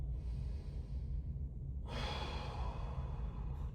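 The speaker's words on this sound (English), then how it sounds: "Deep breathing" Slow, deep breaths are drawn in and let out during a foam roller stretch, close and soft, with a steady hiss and a fuller breath about halfway through.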